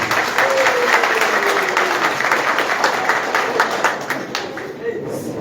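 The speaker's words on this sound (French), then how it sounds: "Je vous demande de vous applaudir tous chaleureusement aujourd'hui." Warm crowd applause at a Pan-Africanist rally, dense clapping that starts loud and close and gradually thins and fades toward the end, with a voice briefly heard over it.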